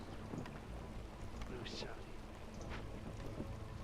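Steady rain pours in a video game storm, with low thunder rumbling through the wash of noise for the whole stretch.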